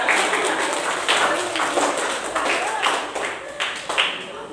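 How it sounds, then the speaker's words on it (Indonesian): Group clapping in a classroom after student groups present, uneven bursts of hands with some distinct slaps, moderately loud, with voices talking over the applause. "Oke, tepuk tangan buat semuanya."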